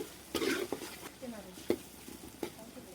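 Eggs and chicken meat fry in a pan with a steady close sizzle, broken by repeated scrapes and clanks as the utensil stirs and knocks against the pan.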